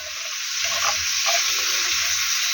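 Meat, onion and carrot frying in a pan for a thin gravy, a loud, steady close sizzle with faint stirring clinks and no talk.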